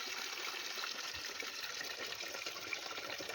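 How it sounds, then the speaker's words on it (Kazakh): Syrup from a homemade cherry, apricot and apple compote is poured from jars into a vessel, a steady, even gush of liquid running without pause and without voices. "суыны бір ыдысқа осылай құйып аламыз"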